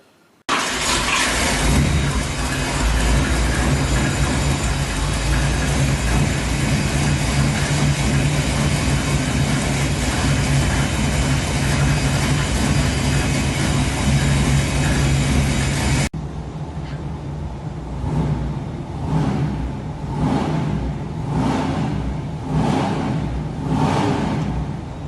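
Ford Falcon's 351 Cleveland V8 running on a dyno, a loud, sustained roar held for about fifteen seconds, then dropping to a lower, pulsing idle with rhythmic throbs, no voices.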